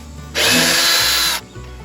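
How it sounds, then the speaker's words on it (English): A power drill bores a 45-degree pilot hole into hardwood decking laid over a concrete slab, one short loud whirring burst of about a second that starts and stops abruptly, close and alone. "then you drill a 45-degree pilot hole"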